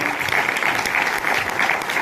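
A crowd at a Vestige business leadership event applauds for visiting women attendees, a short, dense burst of many hands clapping close and loud throughout.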